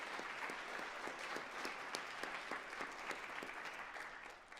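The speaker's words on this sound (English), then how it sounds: "now give yourselves a huge round of applause" Graduates at a university convocation clap together in steady, sustained applause, dense and fairly distant, tapering slightly toward the end.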